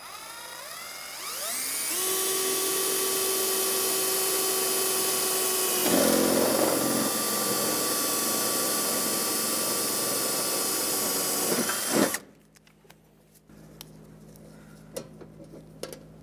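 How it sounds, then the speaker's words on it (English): A 1/8-inch drill bores a hole through a replacement cab corner panel on a 2001-2006 Chevrolet Silverado 2500, the motor whining up to speed and grinding steadily for about ten seconds before stopping, followed by faint clicks and handling noises. "Take our 1/8-inch drill."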